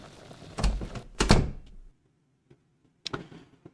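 A door in the adventure game Sherlock Holmes and the Secret of the Silver Earring creaks and thuds open in two close heavy knocks, then a short gap and a final sharp clunk.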